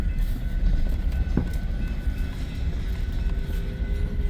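A northbound BNSF freight train on the Sioux City Sub draws closer as a steady, heavy rumble with a continuous low roar, loud and unbroken throughout.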